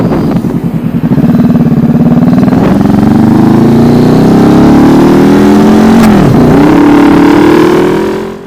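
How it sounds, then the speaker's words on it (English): A Honda CB500F motorcycle with swapped handlebars on a test ride, its engine droning loud and close throughout as it climbs steadily in pitch through the gears, with a brief dip near the end. "I took the bike out for a test ride."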